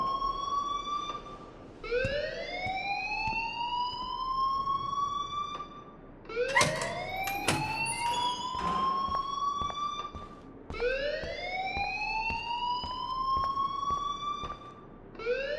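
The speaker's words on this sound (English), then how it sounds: "please turn off that alarm since that's your job" School fire alarm in Life Is Strange, a loud siren that rises and falls in repeated sweeping wails, steady and close, with a few sharp clanks partway through.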